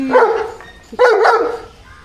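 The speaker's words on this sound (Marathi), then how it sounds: "दादागिरी करते कुत्री" Two close, loud barks from a female dog with a whiny, yelping tone, separated by a short pause.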